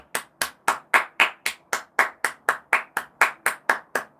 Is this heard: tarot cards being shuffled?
no